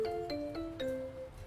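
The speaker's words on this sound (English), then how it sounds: "We rang the bell." An electronic doorbell chimes a quick descending ding-dong sequence of four tones, clear and close, each note ringing out briefly.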